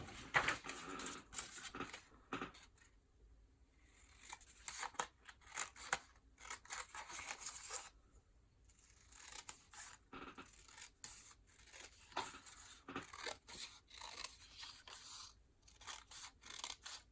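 Scissors cutting words out of a paper sheet for handmade cards, close and quiet, with irregular snips and scraping paper rustle coming in clusters separated by brief pauses.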